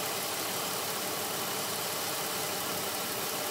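A 2007 Dodge Ram pickup's V6 engine idles steadily with a low, even rumble and no other sounds, continuous throughout.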